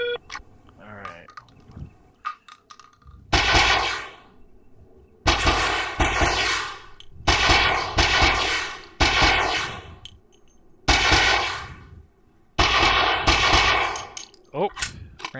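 Gunfire in a shooting-range video game, loud close bursts of rapid shots with sharp metallic clangs, in about six long volleys separated by brief silences, with a few quiet moments of talk.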